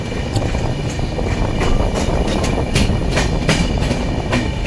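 A passenger train heading toward New Jalpaiguri on a rainy day rumbles steadily on its rails, with continuous broadband noise and scattered sharp clacks from the wheels over about five seconds.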